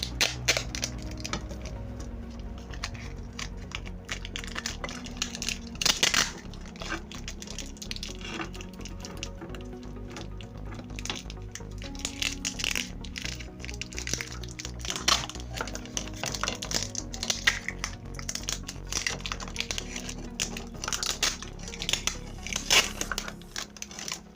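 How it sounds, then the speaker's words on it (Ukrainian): Adhesive tape wrapped around a repaired LED strip gives a long run of crackling, sticky peeling and crinkling bursts, close and uneven, repeating for more than twenty seconds without speech. "Я просто тут поки що замотаю скотчем"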